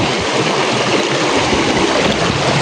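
Rushing water from a waterfall along a hiking trail in Mindanao, a steady loud broadband roar close by that holds constant throughout with no voices.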